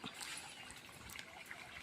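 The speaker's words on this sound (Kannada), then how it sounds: "ಹೂವಿನ ಗಿಡಕ್ಕೆಲ್ಲ ನೀರು ಬಿಡತ್ತಾರ ನೋಡ್ರಿ" Water trickles softly and steadily as flower plants, including crossandra, are watered at a farm home, a faint continuous dribble with no voices.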